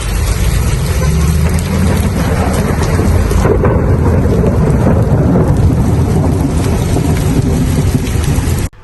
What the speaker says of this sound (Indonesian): sedang merekam suasana ketika kawasan sekitar Jamarat dilanda hujan dan petir